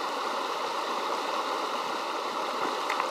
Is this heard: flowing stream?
yes